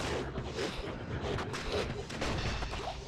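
A dense, sustained burst of crackling blasts in Diablo II fills the clip, loud and continuous like a monster's explosion with no voices present.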